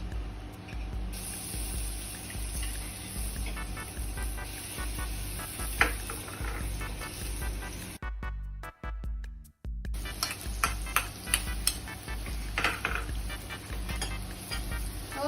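Chili and garlic sizzling in hot oil in a pan, with a steady frying hiss and occasional stirring clatter close by. A sudden quiet gap falls midway.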